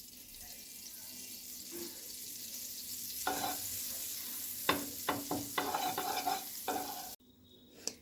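A little butter sizzling in a wok (kadai) before Spanish omelette batter goes in, a faint hiss that swells midway with several clinks of a utensil, then cuts off abruptly.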